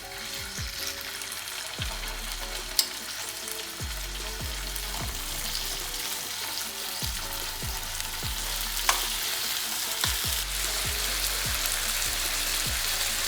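Garlic-marinated food sizzles in a spoonful of olive oil in a pan, a steady close crackling hiss with no talk, broken by occasional low knocks and scrapes of the pan.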